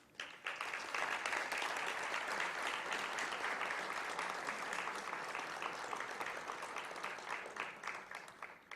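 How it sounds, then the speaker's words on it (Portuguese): Sustained audience applause fills a hall at the opening ceremony of an international congress on financial law, dense steady clapping from a large crowd that swells after a brief quiet start and fades slightly toward the end. "Professor doutor Francisco Pedro Jucá, o qual convidamos para receber a justa homenagem desta noite e os nossos aplausos."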